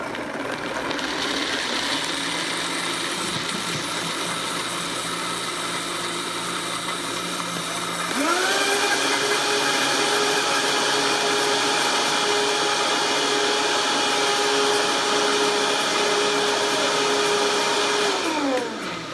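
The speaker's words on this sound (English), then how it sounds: "we're just gonna blend until that is smooth and creamy using the handy dandy tamper as needed" A blender whirs cashew cheese until smooth, its steady loud motor roar jumping to a higher, stronger pitch partway through and holding there before winding down at the end.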